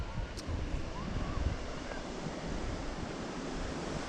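Waves wash onto Rossbeigh Beach on the Ring of Kerry in Ireland as a continuous broadband roar of surf, mixed with wind buffeting the microphone, steady and fairly loud throughout.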